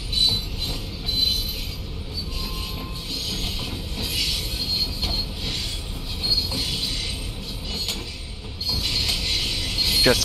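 A simulated Isle of Wight train in Train Sim World 3 rolling downhill, with continuous wheel squeal, rumbling rail noise and occasional clacks, loud and steady with no voices.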